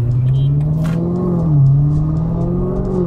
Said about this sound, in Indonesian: suara blow off top juga tuh